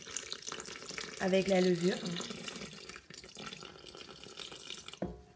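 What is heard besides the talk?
pouring water into stand mixer bowl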